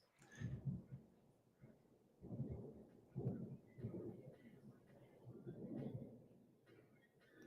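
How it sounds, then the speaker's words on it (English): Thunder from a storm rolls in low, distant rumbles that swell and fade in several waves over about seven seconds, faint and without voices. "That was like a 5-second crack of thunder."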